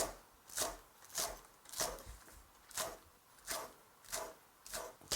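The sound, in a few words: knife chopping kohlrabi into kkakdugi cubes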